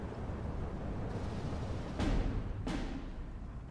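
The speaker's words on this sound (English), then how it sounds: "So in come the shells." Incoming artillery shells in Steel Division 2 burst twice in quick succession, each a sharp, broad blast over a constant rumbling battlefield background noise, fairly distant and muffled.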